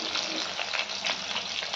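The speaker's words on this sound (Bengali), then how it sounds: "আর এবার মাছটা ভেজে নিই কড়া করে।" Steady, dense sizzling of fish frying in hot oil, loud and close, with a continuous crackling hiss and no voices.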